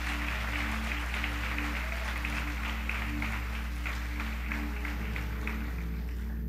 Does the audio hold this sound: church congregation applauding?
yes